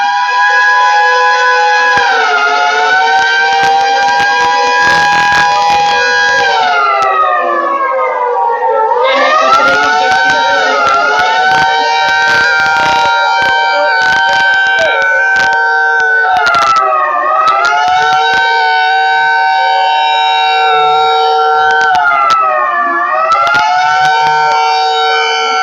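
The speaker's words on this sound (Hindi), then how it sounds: "ये सायरन अलर्ट है, आपको अलर्ट करता है ये सायरन" A civil defense siren wails loud and steady during a mock emergency drill, its rising and falling tone repeating in long sustained cycles with no talk over it.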